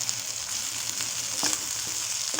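Brinjal fry sizzles in a pan as it is stirred, giving a constant close frying hiss with a few soft scrapes of the spoon.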